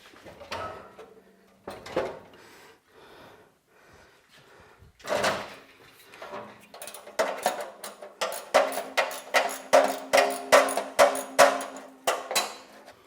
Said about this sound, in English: Apparently I got one more bolt to undo.